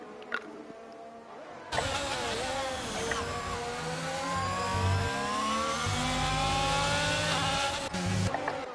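Formula 1 cars in a racing video game tear around the Hungary circuit. Several engines whine loudly and shift pitch as they accelerate and change gear, close and continuous for several seconds after a short quiet start.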